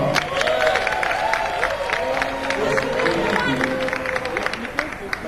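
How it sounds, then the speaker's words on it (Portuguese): Audience at a carnival gathering applauding and cheering with crowd babble and chatter throughout, a dense, steady wash of claps with voices mixed in. "Gang! Aplaudam!"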